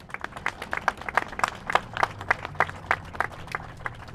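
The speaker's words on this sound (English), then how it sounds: "Let's give them a round of applause" A small crowd at a city groundbreaking ceremony claps in distinct, scattered hand claps, fairly close and steady, with no one speaking over it.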